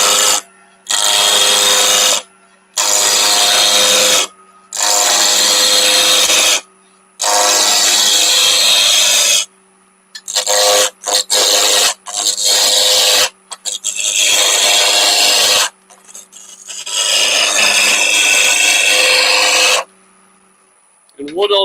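Wood blanks being rounded off on a lathe running at about 1500 rpm, a loud broadband cutting roar in repeated bursts of a couple of seconds separated by short pauses, close by.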